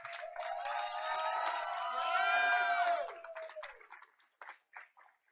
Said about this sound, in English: Audience, let's give the Lady Cardinals and their coaches another round of applause.